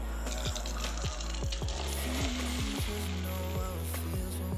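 Browned ginger and garlic tempering poured into cooked lentils, giving a loud, steady hot-oil sizzle with bursts of crackling and sputtering throughout, no voices.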